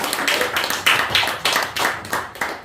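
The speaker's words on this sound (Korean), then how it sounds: "큰 박수 부탁드리겠습니다" A small audience at a literary talk concert claps to welcome the host, a poet and poetry reciter. Close, uneven bursts of hand claps arrive in a loose rhythmic pattern that swells and fades several times.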